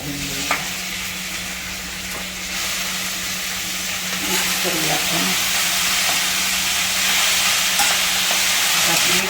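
Vegetables with salt and fenugreek leaves stir-fried in a pan for a no-onion, no-garlic shraddha dish, a steady loud sizzle and hiss with scattered scraping stirs throughout, no voices.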